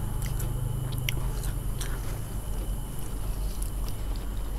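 Crispy fried spring rolls with fresh vegetables are chewed close to the mouth, giving repeated crunchy bites over a steady outdoor background hum on a rooftop garden.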